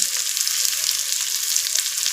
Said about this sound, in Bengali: তারপর পেঁয়াজগুলো দিয়ে দিলাম ভাজা হওয়ার জন্য